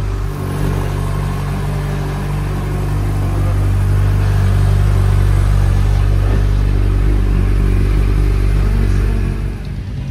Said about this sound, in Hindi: तो फटाफट बाइक वार्म अप हो जाए